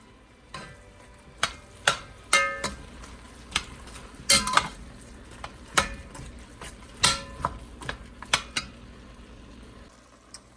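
Ground beef with carrots and celery browns in a pan for cheeseburger soup, with a soft sizzle under repeated close scrapes and knocks of a utensil stirring against the pan.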